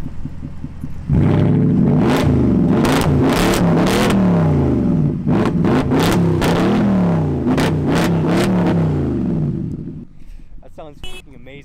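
A Corvette with its exhaust valves open revs hard up close, loud repeated throttle blips and rising, falling engine roar for about nine seconds before the engine settles, with voices talking over it.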